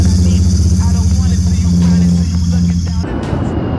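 A Royal Enfield GT 650 motorcycle engine running at a steady idle close by, a loud even rumble that drops off abruptly near the end.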